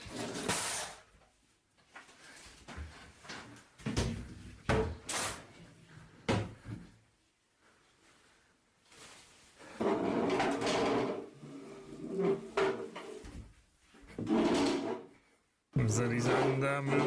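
Cupboards and objects bang and shift around inside a house in irregular bursts of knocks and clatter, with a few quiet gaps between clusters of movement.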